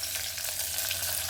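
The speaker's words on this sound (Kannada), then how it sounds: "ನೋಡಿ, ಈಗ ಸಾಂಬಾರಿಗೆ ಒಗ್ಗರಣೆ ಹಾಕ್ತಾಯಿದ್ದೀನಿ." Cumin, curry leaves and chillies tempering in hot oil for sambar, a dense, steady sizzle and crackle heard close and alone.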